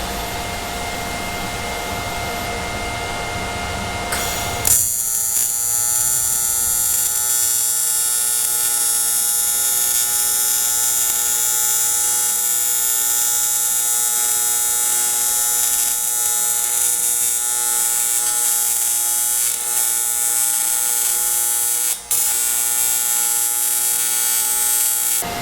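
A welder sizzles with a steady electric buzz while welding the fuel tank mounts onto an International Loadstar truck. It starts abruptly after a few seconds of quieter hum and then holds loud and unbroken, with one brief dip near the end.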